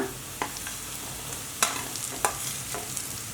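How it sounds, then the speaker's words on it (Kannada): Onion, green chilli and beans stir-fried in a pan for street-style Chinese veg fried rice: a steady close sizzle with a few sharp scraping clacks from the spatula, no talking. "ಸಣ್ಣದಾಗಿ ಹೆಚ್ಕೊಂಡಿರೋದು ಈರುಳ್ಳಿ ಸ್ವಲ್ಪ ಫ್ರೈ ಆಗಲಿ ಸ್ವಲ್ಪ ಬೀನ್ಸ್ ಹಾಕ್ಕೊಳ್ಳೋಣ"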